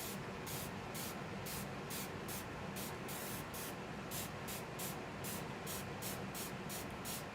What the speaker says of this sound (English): I'm going to tilt this slightly and go along here and spray along the edge.